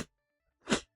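A single short sneeze indoors during a gaming live stream, one sharp burst after a brief quiet gap, near and moderately loud, preceded by a faint clipped noise.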